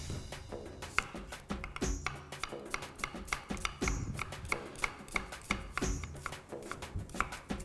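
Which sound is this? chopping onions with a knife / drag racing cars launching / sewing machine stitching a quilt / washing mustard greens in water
chopping onions with a knife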